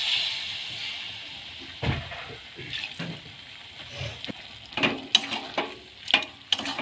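Pumpkin greens cooking with ridge gourd and eggplant hiss in a pan after a splash of water, with irregular bursts of sizzling and scraping stirs that grow louder and choppier toward the end.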